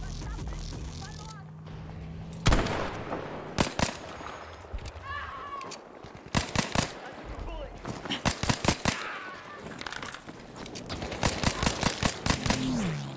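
A Kar 98 bolt-action rifle and a pistol fire in the shooter game Battlefield 5, with sharp, spaced single shots and quick volleys scattered through the scene, along with background battle noise and someone talking.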